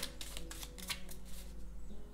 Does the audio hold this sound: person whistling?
no